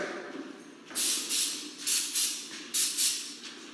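Short bursts from an aerosol lubricant can hiss close by as garage door parts and torsion springs are sprayed, six quick sprays in pairs over a quiet background.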